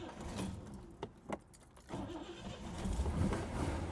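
A 1966 Chevrolet Corvette convertible, just back from service, starting after a single pump of the gas pedal: a few clicks and cranking, then the engine catches and settles into a steady low rumble.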